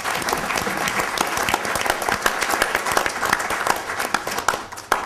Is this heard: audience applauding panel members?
yes